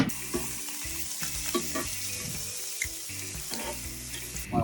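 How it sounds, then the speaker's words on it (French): Lardons sizzling with no added fat in a cast-iron pot on a hot Weber barbecue at around 240 degrees, a steady close frying crackle with a few light knocks and stirring sounds. "met directement nos lardons dessus sans matière grasse"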